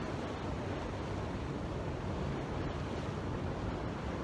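Ocean waves crash on a beach in a steady, loud, continuous wash of surf with wind noise on the microphone, no voices present.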